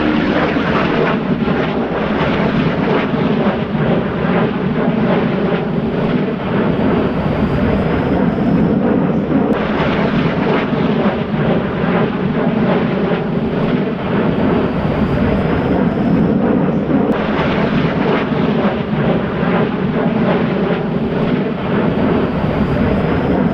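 A B-2 bomber flies past with T-38A companion trainer jets at a Wings Over Whiteman 2024 air show, a loud, sustained, broad jet roar that swells and fades without a break.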